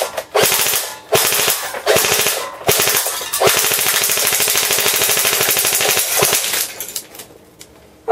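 A JG Military AUG airsoft gun fires BBs on full auto in several long, rapid rattling bursts separated by short pauses, loud and close with no talk.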